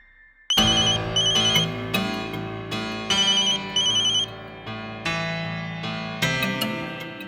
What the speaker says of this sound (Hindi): नचिकेत, तुम्हारा फोन बज रहा है।